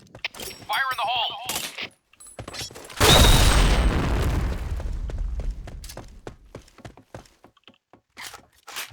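In Counter-Strike on the Sandstorm map, a grenade explodes with a sharp, loud blast that rolls into a long decaying rumble, followed by scattered clicks and short bursts of game noise, with voices chattering before it.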